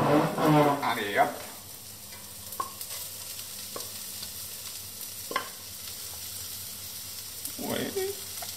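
Omelette mixture with asparagus frying in a hot pan, a soft steady sizzle under a few sharp spatula scrapes and taps, with a brief louder burst of stirring at the start.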